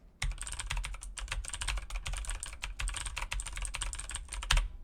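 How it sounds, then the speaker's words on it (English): Typing on a computer keyboard placed in front of a USB microphone, a fast, continuous run of close, crisp key clicks with dense clatter throughout. "We're going to put the keyboard in front of the microphone and we're going to test that"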